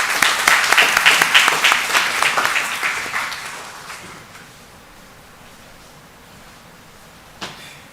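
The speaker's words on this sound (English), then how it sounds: "Let's give him a big round of applause." Audience at a university commerce department orientation applauding a head and dean, a burst of dense clapping that tapers off over a few seconds into quiet room tone with a single knock near the end.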